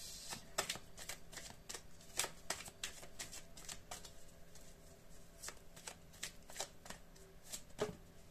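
Oracle cards being shuffled by hand, a dense run of quick soft riffling flicks and slaps, close but faint, continuing steadily for several seconds with no talk.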